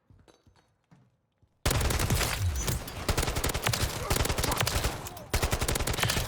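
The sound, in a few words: Kastov 74u assault rifle gunfire in video game MW3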